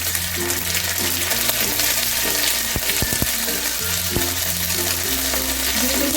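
Ginger paste dropped into about a spoonful of hot oil, a loud close sizzle and crackle that holds steady, with a few sharp clicks of a utensil against the pan.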